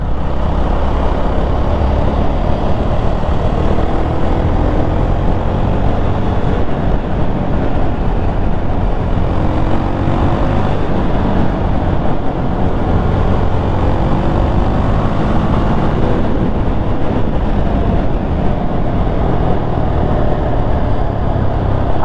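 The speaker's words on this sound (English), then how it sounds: "another thing that will keep you entertained on this motorcycle is this exhaust note" A Yezdi Scrambler motorcycle's exhaust note carries through as a loud, continuous engine rumble over about twenty seconds, thick with wind and road roar while riding, and no voice is heard.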